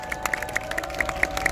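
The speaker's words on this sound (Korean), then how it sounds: "다시 한번 큰 박수 부탁드립니다" Outdoor crowd at a political campaign rally in Jongno clapping, a quick scattered run of hand claps over a steady background hum, brief and moderately close.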